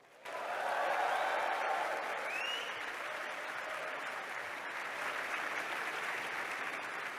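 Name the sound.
ceremony audience whooping, cheering and applause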